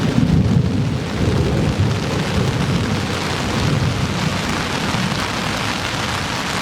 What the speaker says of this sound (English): hopefully it was just the storm moving in